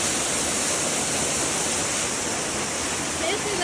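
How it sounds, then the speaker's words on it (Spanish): The seventh waterfall of Uraurko roars steadily, a dense, continuous rush of falling water filling the whole scene without pause. "Esa es la séptima cascada de Urahurco"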